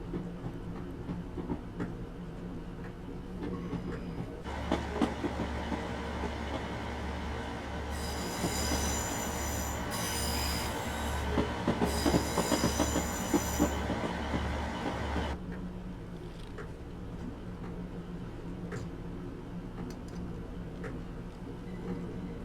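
A Class 150 diesel multiple unit in a train simulator game runs along the rails, with wheel and rail rumble swelling loudly in the middle alongside rhythmic clacking and high squeal before easing back to a quieter drone.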